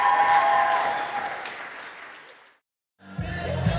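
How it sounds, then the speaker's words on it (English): Loud audience applause at a youth participation event, a thick roar of clapping that fades to silence, then a burst of noise and voices resumes near the end. "give them a massive round of applause"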